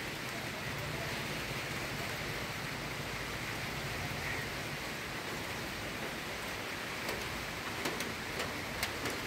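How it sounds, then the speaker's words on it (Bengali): Steady rain falls outdoors near a flowering kori phool tree, making a soft, even hiss of drops throughout, with a few faint ticks near the end. "বৃষ্টি পড়ছে।"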